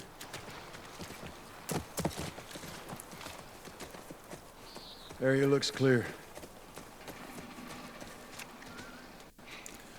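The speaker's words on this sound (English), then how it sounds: "That's our horse" Horse hooves clip-clopping in The Last of Us Part 1 game, a steady walking beat under game sounds, with people talking and a brief neigh in the middle.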